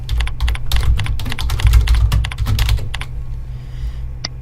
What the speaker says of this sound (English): We'll type in the source description.